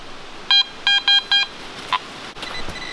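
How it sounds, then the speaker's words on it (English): A metal detector sweeping in the New Hampshire woods near old cellar holes chirps with a target signal: four short, bright tonal beeps in quick succession, then a brief blip and a fainter warble, with no talking. "It was ringing up a chirpy 46 solid."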